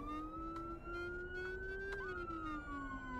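A police rumbler siren wails in a video game, a loud steady tone with a slow sweep that climbs and falls back, with brief clicks and no talk over it.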